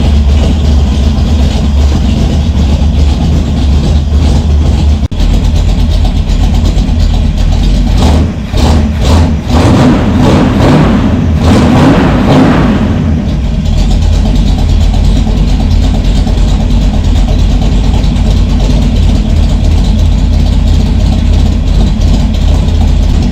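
A cold car engine fitted with a Brawler 650 CFM double-pumper carburetor idles steadily while warming up, a loud, constant low rumble with a brief rougher patch midway, heard alone with no talk.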